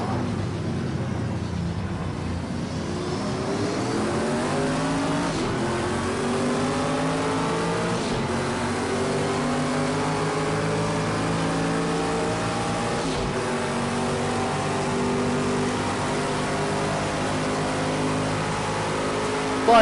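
A racing car engine in Project Cars 2 drones loud and steady throughout an overtake, its pitch sweeping up through gearshifts with brief dips between, the whine continuous and close for nearly twenty seconds.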